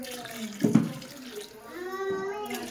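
Water pours and splashes into a pot of soaked rice for chicken biryani, with a brief clatter early and a voice talking faintly in the background.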